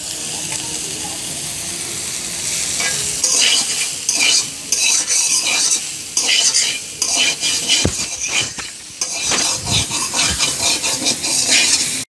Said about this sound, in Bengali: এখন আমরা ওই তেলের মধ্যে সয়াবিন গোটাগুলো ভেজে নেব।